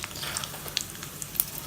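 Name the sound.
tempering chana dal and mustard seeds sizzling in oil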